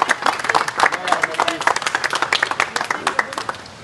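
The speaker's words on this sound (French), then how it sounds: "Alors, on peut tous s'applaudir" A small group of contestants claps together after a challenge, a brisk, distinct rhythm of individual claps close by, fading toward the end, with voices mixed in.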